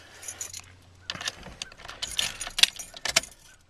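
Keys jingle and clatter inside a 1981 K5 Blazer just before starting, several bright metallic shakes and rattles close by over a few seconds with no engine yet running.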